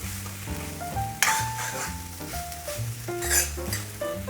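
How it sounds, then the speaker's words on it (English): Chicken fried rice is stirred in a hot pan, sizzling softly with occasional scrapes and clinks of a utensil against the metal. Tonal background music plays throughout, and no one speaks. "now we'll just give it a mix, and our fried rice is ready"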